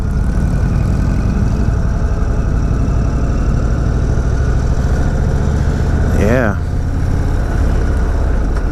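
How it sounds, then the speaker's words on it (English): An Indian Springfield Darkhorse motorcycle under way, its engine and exhaust producing a steady, loud, low rumble throughout, with a brief rising whine near the end and a rider speaking a single word. "beautiful exhaust note"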